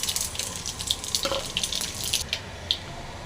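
Mustard seeds splutter and pop in hot oil for a Tamil mudakathan chutney, a dense crackling sizzle with many small close pops and no talk.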